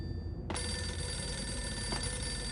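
In the Max Payne video game, a telephone rings loud and close, its bright tone starting abruptly and holding steady over a low background rumble.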